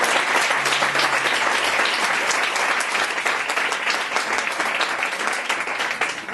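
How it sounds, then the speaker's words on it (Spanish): An audience at a talk in Barcelona breaks into sustained applause, a dense steady wash of clapping from a full room that holds for several seconds and tapers slightly at the end. "un aplauso para los compañeros para empezar esta charla."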